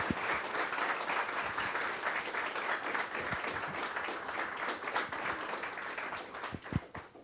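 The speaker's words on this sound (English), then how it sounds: "A big round of applause for joining us." Audience applause at a university communication and information college event: steady, dense clapping from a crowd indoors, moderately loud and sustained, with a few sharper individual claps standing out near the end.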